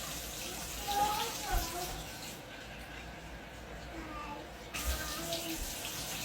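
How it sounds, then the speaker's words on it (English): Hot water running into a jar to dissolve sugar for water kefir, a steady trickling pour that carries on for several seconds at moderate level with small clinks. "I'm going to put just a little bit of hot water in to dissolve the sugar"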